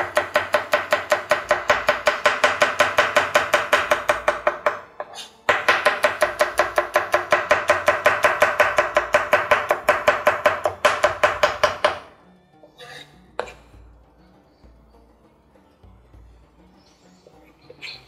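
Garlic chopped with a knife on a board in a rapid, even run of sharp close taps, pausing briefly midway and then resuming before stopping, followed by quiet handling noises.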